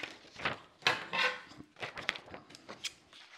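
Scissors snip excess paper away from a sewing pattern for a raglan-sleeve garment, giving a few close, dry crisp cuts and rustles with brief pauses between them.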